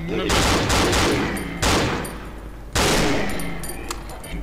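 Loud, close bursts of gunfire from the video game Cry of Fear, three sharp volleys in quick succession, each ringing out and decaying before the next.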